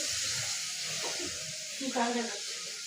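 Food sizzling and frying in a pan as a grandmother cooks in a home kitchen, a steady close hiss with a brief stirring scrape and a faint voice in the background.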